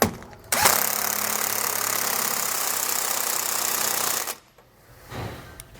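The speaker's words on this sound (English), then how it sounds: "take our 15/16 inch socket and make sure we tighten and torque down the two nuts for our axle U-bolts" A powered impact tool with a 15/16 inch socket runs nuts down onto axle U-bolts on a 2009 Coachworks Siena motorhome. It gives one loud, continuous rattling whir of about four seconds, then stops abruptly, and a faint shorter buzz follows.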